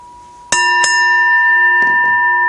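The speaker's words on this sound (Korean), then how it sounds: "여러분들이 종소리 들었다 하는데" A bell at a Buddhist dharma talk is struck twice in quick succession, then its clear pure tone rings on steadily and loud, with a faint clatter of movement beneath it.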